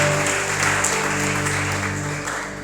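Congregation applauding in a church service, a short continuous burst of clapping over a steady sustained musical drone, moderately loud.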